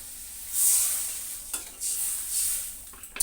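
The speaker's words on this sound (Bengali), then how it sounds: "এবার আমি জল দিয়ে দেব।" Water poured into a sizzling tomato curry pan, producing a burst of hissing steam that swells and fades in waves, with a few light utensil clicks near the end.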